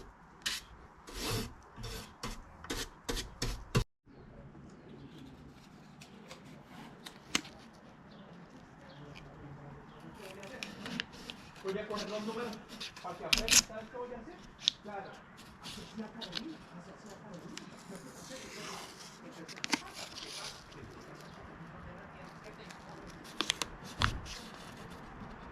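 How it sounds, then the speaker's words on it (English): Sandpaper of several grits rubbing and rasping over the frets of a Bedell Encore BSMCE-18-G Orchestra Cutaway guitar, a steady close scratchy friction with brief louder bursts, continuing with no talk over it. "we'll do that with a series of a few different grits of sandpaper"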